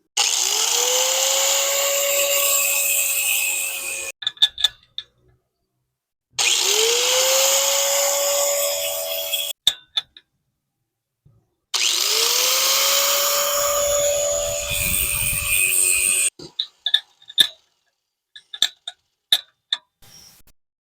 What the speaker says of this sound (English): Now we'll just use that grinder and slowly work that in and get it to fit the way we want it to.